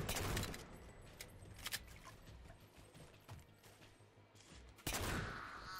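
Halo 4 gunfire on PC, with a burst of shots opening the clip, scattered quieter shots through the middle, and a loud renewed burst near the end over a steady rumbling background.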